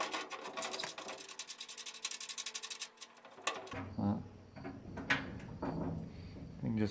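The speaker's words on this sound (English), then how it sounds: "get yourself a good sized wrench or crescent and just drag that nut off of there" A wrench works a nut off the lock of a Stack-On gun safe: a fast, close ratcheting clicking for about three seconds, then metallic shuffling and handling noises while a person talks.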